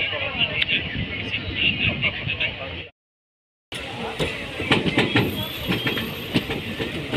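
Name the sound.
train passing on railway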